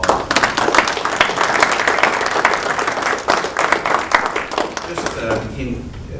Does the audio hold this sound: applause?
yes